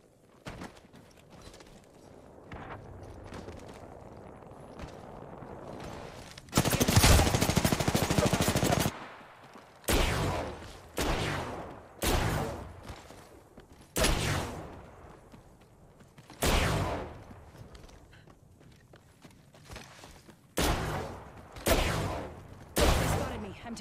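Bursts of automatic gunfire in Apex Legends: one long loud volley, then a string of short sharp bursts separated by brief gaps, near and prominent over quieter game ambience.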